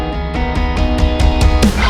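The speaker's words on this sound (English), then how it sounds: "Awesome, so that's the clean guitars." Clean guitars within a full song mix, strummed in a steady pulsing rhythm with regular accented hits, loud and continuous.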